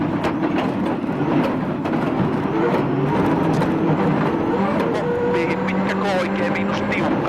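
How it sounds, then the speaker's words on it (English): Rally car at the 2002 Safari Rally crashing and rattling over rough, punishing road, a dense, continuous roar of engine and jolting suspension throughout, loud and close with a steady rumble and scattered knocks. "Listen as the road punishes the car."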